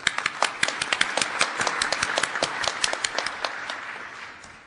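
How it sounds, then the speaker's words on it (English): A conference audience gives a round of applause to thank the hosts at the opening session. Many crisp, overlapping hand claps ring out together close by, then the clapping thins and fades toward the end. "let's give them a big round of applause"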